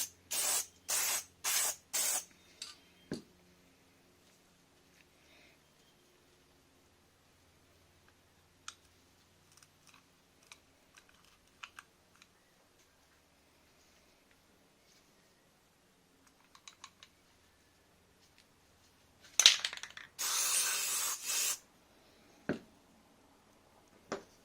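A can sprays grease into the bearing assembly of a Hummer H3 rear E-Locker in short hissing bursts at the start and a longer burst near the end, with quiet clicks and handling noises in between.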